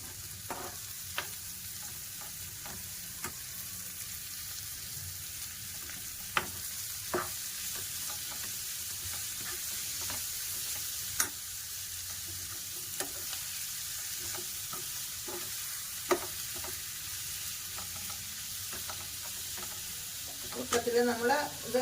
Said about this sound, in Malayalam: ഇനി നമുക്ക് നമ്മുടെ ചിക്കൻ കട്ട് ചെയ്ത് വെച്ചിട്ട് ഇടാം.